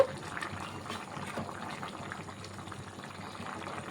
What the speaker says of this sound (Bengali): তরকারির ঝোলটা ফুটে এসছে